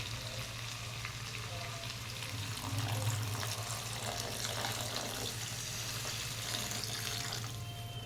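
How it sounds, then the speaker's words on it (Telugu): A steady hiss of curry frying with water poured in, a running, splashing wash of liquid over it, continuous and moderately loud, no voices. "ఇప్పుడు ఇలాంటప్పుడు మనం ఏం చేయాలంటే వాటర్ యాడ్ చేసుకోవాలి"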